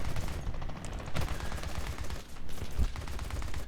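Aircraft guns on a B7A2 Homare 23 torpedo bomber in War Thunder fire in sustained rattling bursts over a steady engine drone, loud and continuous with a few sharper impacts.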